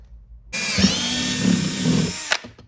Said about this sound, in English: We're gonna drill this hole.